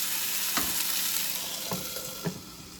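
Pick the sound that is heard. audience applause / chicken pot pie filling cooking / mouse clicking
chicken pot pie filling cooking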